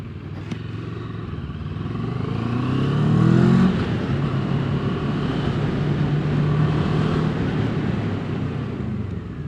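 A Moto Morini Seiemmezzo 650 Scrambler rides at slow speed, its engine a steady, close low rumble that swells briefly with a throttle rise before settling back, along with wind noise and no speech.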